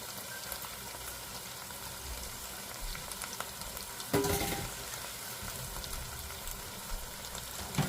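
Rice cooking in oil in a pot, a continuous close sizzle and fry with stirring scrapes and a brief louder stir partway through, no talking.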